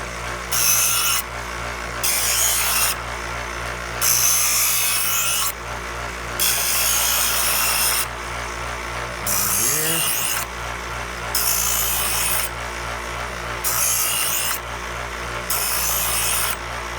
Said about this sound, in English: That's how I sharpen my knife.